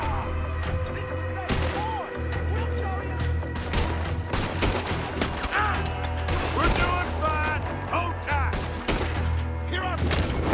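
Pistol gunfire in the video game Red Dead Redemption 2: repeated sharp shots and impacts over a busy, noisy battle bed, with a person talking throughout.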